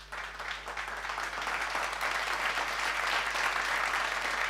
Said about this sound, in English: A round of applause for that man there.